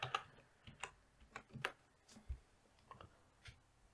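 Keystrokes on a computer keyboard while typing in a search for MySQL, a quiet irregular run of separate clicks with short pauses and no talking.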